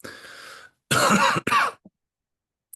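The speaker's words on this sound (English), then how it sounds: "Still that cough?" A person with asthma gives a breathy exhale followed by two sharp, close coughs in quick succession, then quiet.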